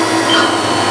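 A Haas VF-5 vertical CNC machining center spindle spinning at 7,500 RPM gives a loud, steady whine with a faint high tonal component over continuous broadband machine hum, with no pauses.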